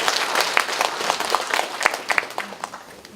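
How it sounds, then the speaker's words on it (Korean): Applause from a community meeting audience welcoming new farmers who have moved to the countryside, a steady patter of many hands clapping at moderate distance, with no talking over it. "다시 한번 큰 박수로 환영해 주시죠"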